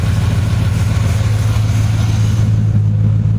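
A car engine fitted with an MSD distributor runs at a steady idle, a loud, close, low rumbling drone with an even throb and no talk over it.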